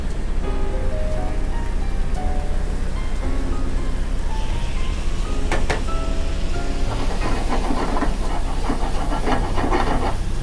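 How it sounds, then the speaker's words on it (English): Kohlrabi cooking liquid poured into a hot pan with buttery fish, giving a loud, continuous steam hiss and crackle that swells toward the end, close and without speech. "I'm just going to add a little bit of this kohlrabi cooking liquid."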